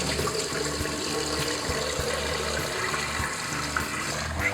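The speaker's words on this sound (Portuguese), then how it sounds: "Vamos lavar o arroz várias vezes para tirar o amido." Water running steadily as long-grain rice is rinsed to wash off the starch, a continuous close splashing rush with faint knocks underneath, no talking.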